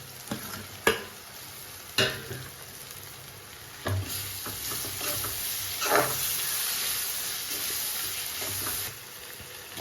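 Chicken curry with tomatoes frying in a pan, a steady loud sizzle underneath a few sharp scrapes and knocks of a stirring spoon against the pot, with no voices.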